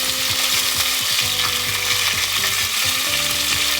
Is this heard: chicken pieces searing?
yes